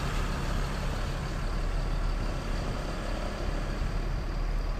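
A Miyor intercity bus engine rumbles steadily while the bus is parked, a continuous low, fairly faint drone with no clear changes.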